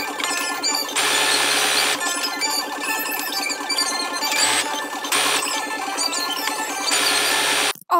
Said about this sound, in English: Then go ahead and sew down those lines you made with your ruler when you made the